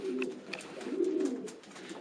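Stichelbaut racing pigeons coo in a low, rolling murmur, with several soft overlapping calls close by over about two seconds and no talking.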